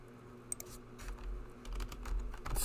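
Soft, quick clatter of fingers typing on a computer keyboard, uneven bursts of keystrokes over a low rumbling hum, fairly quiet with no speech.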